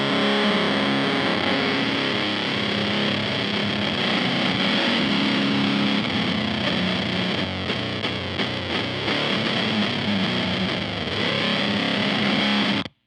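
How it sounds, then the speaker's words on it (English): Electric guitar chords played through a Beetronix Swarm octave fuzz pedal make a thick, saturated, buzzing wall of distortion that is loud and sustained throughout, with no talking. "this pedal sounds absolutely mean and crazy with chords"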